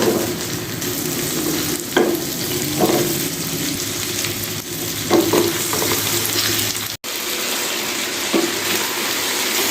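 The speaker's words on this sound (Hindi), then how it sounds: "ये आलू तकरीबन हमारे आधे फ्राई हो चुके हैं" Thinly sliced potatoes fry with ginger-garlic paste in a pan, a steady close sizzle with a few stirring scrapes and clinks, briefly cut off near the end before the frying hiss resumes.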